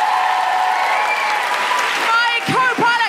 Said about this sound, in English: A big round of applause for Anna Veglio-White.